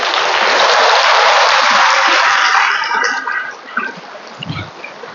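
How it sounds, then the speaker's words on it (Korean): A congregation applauds at a Buddhist dharma service, a dense, loud burst of clapping that holds steady for a few seconds, then thins and fades out into scattered claps. "박수!"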